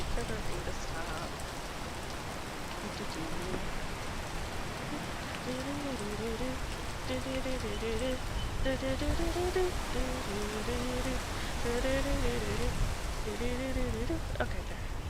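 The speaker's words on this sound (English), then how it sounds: "wait for the rain to stop" Steady rain falls outdoors in a continuous even hiss, with a faint melodic tone running underneath in the second half.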